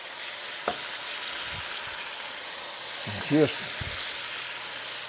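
Steady hissing sizzle of water poured into a hot frying pan with pork cube steak, steaming, with a few soft clinks and a brief louder burst partway through.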